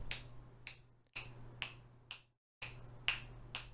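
Sharp finger snaps, about eight, ring out in quick pairs through a noise gate, each snap chopped off abruptly into near silence between groups.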